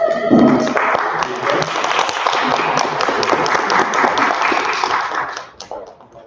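Audience at a US History Bee finals awards ceremony applauds a sixth-place winner, a dense, steady round of clapping that holds for several seconds, then fades out near the end.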